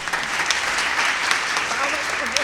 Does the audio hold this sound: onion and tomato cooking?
no